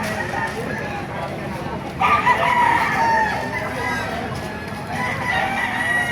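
Sinibalang and white kelso gamefowl roosters crow among clucking fowl at a busy poultry market in Baliuag, Bulacan, with a louder crow rising near the middle over constant crowd noise and chatter.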